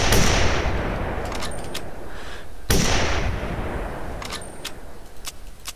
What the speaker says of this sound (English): and then we just start shooting